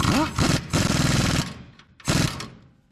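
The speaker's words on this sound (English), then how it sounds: "See about getting the bottom of it tightened up." A power tool tightening a bolt on a Plymouth Fury hide-away headlight, rapid rattling impact bursts in several short close loud runs separated by brief pauses, with some speech overlapping.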